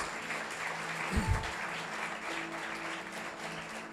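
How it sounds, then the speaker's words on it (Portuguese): A church congregation applauding loudly at a service, steady dense clapping that fills the room for a few seconds with a brief low thump partway through. "Você pode aplaudir forte no nome de Jesus"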